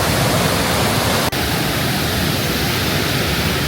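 Turquoise waterfall roaring loud and close, a dense, unbroken rush of falling water with one very brief dropout.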